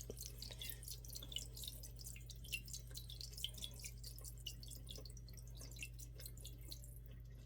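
About four quarts of tap water fill a cooking pot for pasta, heard as a quiet, continuous patter of drips and splashes over a low steady hum.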